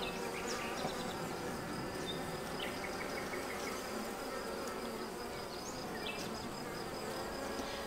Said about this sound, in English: there's an awful lot of bees here